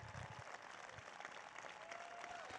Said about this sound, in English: Give them applause, all these people who stood up,